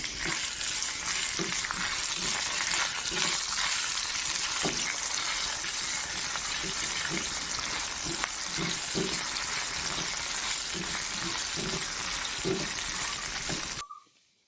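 Curry leaves fry in oil for a bone setter pickle, giving a steady, close sizzle with bubbling crackle and a few soft stirring knocks throughout, cutting off abruptly at the end.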